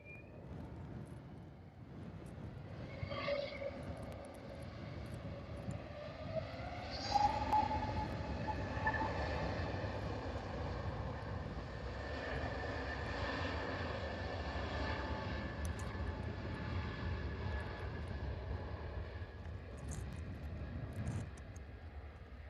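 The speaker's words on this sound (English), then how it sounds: "that's our final departure. The easyJet A320 off to Belfast." An easyJet Airbus A320 departs Liverpool Airport for Belfast, its engines giving a broad, steady roar that builds and holds for the whole stretch. Rising and falling whine tones sit over low rumbling, with no voices.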